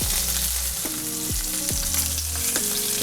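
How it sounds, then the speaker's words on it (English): Garlic and herb lamb chops searing in a pan, a loud continuous close sizzle with a low tonal hum that shifts pitch repeatedly underneath. "We want to get a nice sear on both sides."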